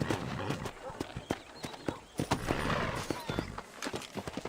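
Horse hooves clip-clop in a quick, uneven rhythm across the Red Dead Redemption landscape, a steady run of sharp thuds mixed with broadband game ambience and noise.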